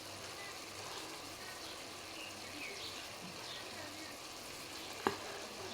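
Onions and green chillies frying in a pan for an egg, drumstick and dried fish curry, a steady broadband sizzle throughout with one sharp utensil clink near the end.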